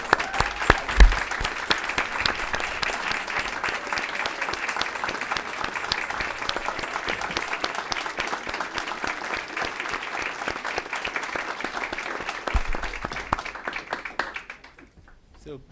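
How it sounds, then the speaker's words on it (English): An audience at a school district board meeting gives elementary school principals a long, sustained round of applause, dense clapping that holds steady for about fourteen seconds before tapering off. "give you a big round of applause"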